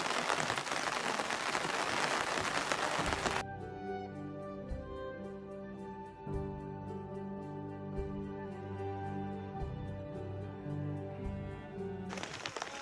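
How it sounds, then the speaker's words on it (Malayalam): Heavy rain falls in the Ranthambore tiger reserve forest as a dense, even hiss at the start and end, with background music covering the middle stretch. "നല്ല മഴയാണ് കേട്ടോ"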